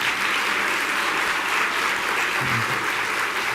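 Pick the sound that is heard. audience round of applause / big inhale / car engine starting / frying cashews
audience round of applause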